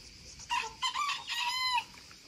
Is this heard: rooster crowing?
yes